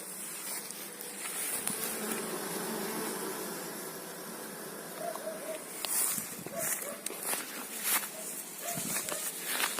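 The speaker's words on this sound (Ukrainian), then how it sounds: "Ось рій працює." Honeybees at an apiary hive on a hot day, a dense, steady buzzing swarm heard up close, with a few louder passes of single bees and brief soft rustles.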